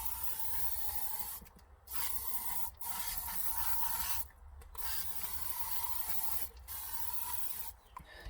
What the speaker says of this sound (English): Using some nice disinfectant here